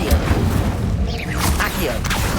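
The Incendio fire spell is cast in Hogwarts Legacy, giving a loud close burst of fiery whooshing and crackling with heavy low rumble, sweeping through the short moment.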